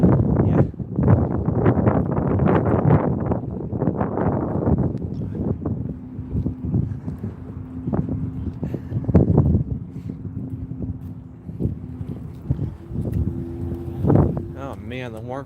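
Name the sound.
wind blowing on a lapel microphone outdoors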